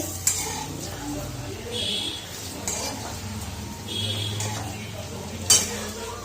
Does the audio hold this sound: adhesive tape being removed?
no